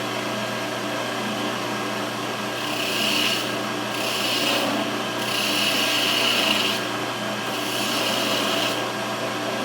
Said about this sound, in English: we'll go back to our spindle gouges and see what we can do here